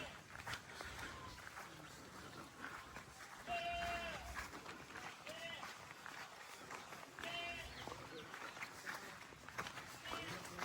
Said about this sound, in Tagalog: bago ko ilabas yung mga kambing